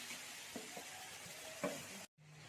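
Spices with asafoetida, turmeric and chilli being stirred in a hot pan, a quiet steady sizzle broken by a few soft scraping clicks of the spoon, close and without talk.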